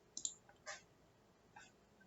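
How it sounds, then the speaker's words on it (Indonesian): A computer mouse clicks a few times, sharp and close: a quick double click, then single clicks spaced apart in a quiet room. "Kita klik yang ini, create, kita klik table."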